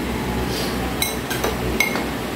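Glasses clink together in a toast at a shared meal, a few bright taps standing out over a steady background hum.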